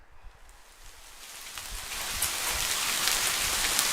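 Rain falls in the fishing game Hooked, a soft hiss of drops that swells steadily from quiet to a fuller downpour, with no voices over it.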